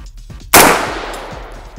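A single loud, sharp shot from a new Radical Firearms 5.56 rifle cracks close by and leaves a long ringing decay, with no other sound before or after.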